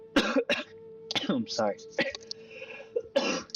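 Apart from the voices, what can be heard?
coughing while smoking cigarettes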